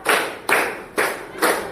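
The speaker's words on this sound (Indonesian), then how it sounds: "Tepuk 1, tepuk 2, tepuk 3, tepuk 4" Four evenly spaced hand claps sound close and sharp in a steady counted rhythm, roughly half a second apart, each ringing out briefly before the next.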